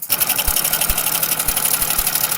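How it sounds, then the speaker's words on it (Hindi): A Hero Splendor Plus BS6 motorcycle engine with a worn timing chain idles up close, a steady buzzing rattle under regular low thumps, loud and continuous with no talking. "इंजन से किस तरह झरझर का साउंड आ रहा है।"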